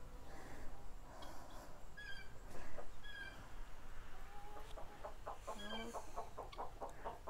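Hen clucking in a chicken coop, a series of soft clucks and rising calls, close by, then a quick run of rhythmic clucks toward the end, with faint background noise.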